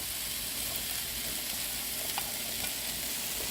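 Onion and capsicum sizzle steadily in a hot pan for a tofu stir fry, a continuous close frying hiss with faint stirring clicks and no voices.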